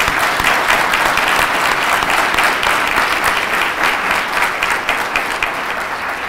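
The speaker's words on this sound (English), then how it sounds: "join me in giving another round of applause for our September 2022 entering class" Sustained, loud applause from an audience at a medical school white coat ceremony welcoming the entering class, a dense steady clapping that tapers slightly toward the end.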